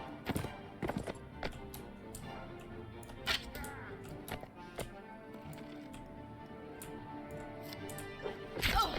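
Hoofbeats of a ridden horse in the video game Mount & Blade: Warband, irregular clops and thuds scattered over a busy background, moderately loud and broken by sharp impacts near the end.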